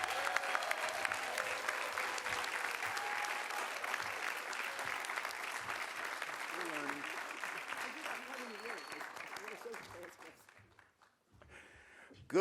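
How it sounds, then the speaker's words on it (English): An audience at a Bronx housing event applauds Senate Majority Leader Chuck Schumer, with dense steady clapping from a crowd that thins and fades out, then a short pause before a faint new sound begins. "let's give a warm round of applause to our Senator Majority Leader Chuck Schumer"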